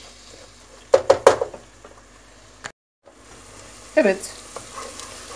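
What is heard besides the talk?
tomato paste frying in a pan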